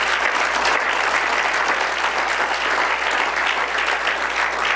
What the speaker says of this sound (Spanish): Le damos un aplauso fuerte al Señor, hermanos.